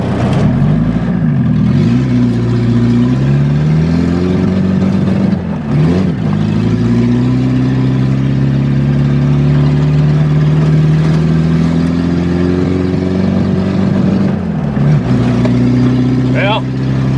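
An old car with a clogged fuel filter and dirty gas drives down the road, its engine droning steadily with rising and falling revs and shifts between gears, loud and close throughout.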